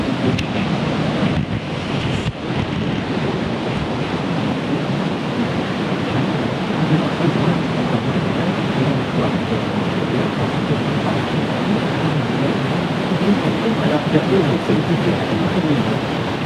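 Rain falls in Garni Gorge, Armenia, as a steady, loud, broadband hiss that holds evenly for the whole stretch, with no voices over it.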